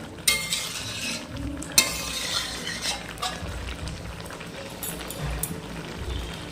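Mashed eggplant frying in a pan for a traditional North Bengal sidol dish gives off a steady close sizzle, with scraping and stirring clatter and a couple of sharper utensil knocks, and no talking.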